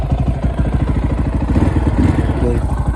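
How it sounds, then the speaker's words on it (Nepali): A motorbike engine runs steadily just after starting, a close, loud, rapid chugging idle that carries on without a break. "बाइक स्टार्ट भइसक्यो।"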